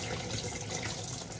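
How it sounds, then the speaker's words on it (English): Liquid gushes out of a freshly cut watermelon, a continuous close splashing pour like a running tap, with no one talking. "I don't think there's any watermelon in there. It's just water."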